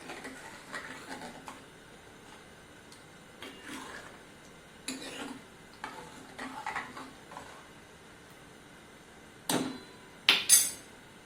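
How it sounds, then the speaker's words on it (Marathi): Tomato saar being stirred in a metal pot, with quiet, sparse clinks and scrapes of a spoon against the sides, building to a few sharper knocks near the end. "हलवून घेऊया व्यवस्थित"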